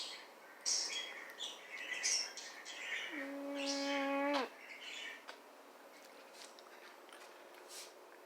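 Clipped pet birds chirp and twitter indoors in scattered soft calls, one sustained whistle-like note standing out midway, fairly faint and close.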